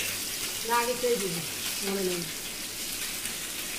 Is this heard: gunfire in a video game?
no